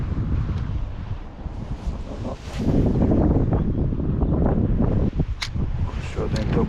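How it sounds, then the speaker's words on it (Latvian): Strong wind buffets the microphone by the water while out fishing, a loud continuous roar with gusts and rustling, and a voice speaks beneath it. "sāk vējš pastiprināties."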